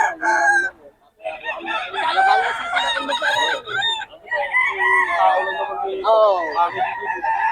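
An Early Bird WPC banded gamecock crows loudly and close several times in long wavering calls, mixed with clucking and other fowl noises, with a brief voice in between.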